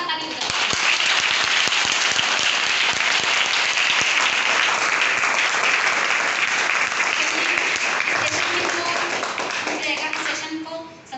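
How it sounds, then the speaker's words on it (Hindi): Loud, sustained applause from an audience at a soft skills communication session, dense clapping lasting about ten seconds before fading, with a voice briefly heard near the end. "उनके लिए दिल से जोरदार ताली बजाते हैं।"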